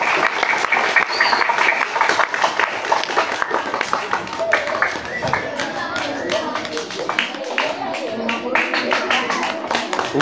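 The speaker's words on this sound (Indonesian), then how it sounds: "Kita beri tepuk tangan dulu buat narasumber kita, Ibu Masnun dan Ibu Kepala Sekolah." Audience applause for speakers at a school event at SDN Kelayan Timur 2, a dense patter of many hands clapping steadily throughout, loud and close, with voices mixed in.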